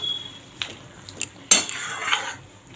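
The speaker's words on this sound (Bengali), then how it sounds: "সব পালং শাকগুলো দেওয়া হয়ে গেল, একটুখানি মিশিয়ে নেব।" Spinach is mixed in a cooking pot with a metal spoon: a few close, sharp clinks and scrapes against the pot, separated by quiet gaps, with no talk.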